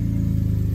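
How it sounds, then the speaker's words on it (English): Ford EcoBoost engine cranking with the gas pedal floored during a pre-lube, a fast, even, mechanical chugging pulse of the starter turning the engine over without firing, loud and close. "It will sit there and try to start until you left your foot off the gas."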